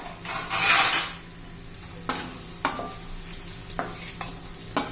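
Onion with ginger sautéing in a pan for a fenugreek-leaf dish, a brief hiss of sizzle early on followed by a quieter fry and a few sharp clicks of a spoon against the pan, with no talking.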